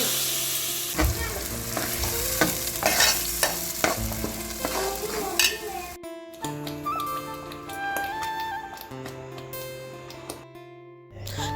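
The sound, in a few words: tempering dried berries in hot oil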